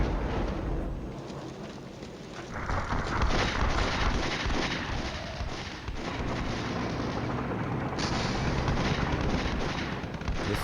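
An artillery barrage rumbles through the Cold War strategy game Flashpoint Campaigns, as dense, continuous booming and crackling blasts that overlap into a loud wall of explosions for the whole stretch.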